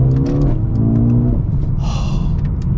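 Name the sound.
Mercedes-AMG CLA 35 2-liter 4-cylinder engine accelerating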